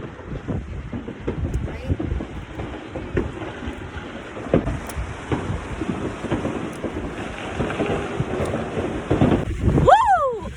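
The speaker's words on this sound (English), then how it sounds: "It's so windy!" Strong outdoor wind buffets the microphone in steady, loud, rumbling gusts for about ten seconds. A brief whistling squeal rises near the end.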